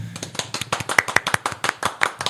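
A few people clap hands in a small room during a podcast recording, producing sharp, close, irregular claps at a quick rhythm with no talking over them.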